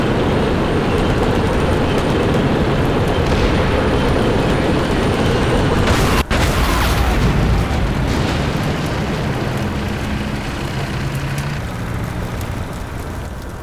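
An anti-tank round explodes in the Combat Mission Black Sea war game: a sharp crack about midway cuts through a continuous broadband roar of battle noise that slowly fades afterward.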